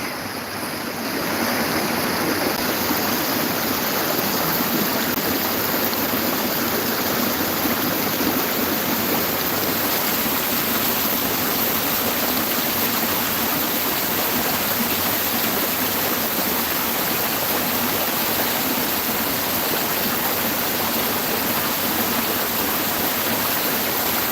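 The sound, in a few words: waterfall in Ünye, Ordu, flowing strongly after rain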